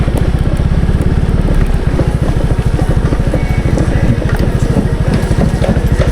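Motorcycle engine rumbling loud and close on a rough, bumpy road near the entrance to a municipal cemetery in Talisay, Cebu, a steady throbbing beat with rattling and clatter throughout.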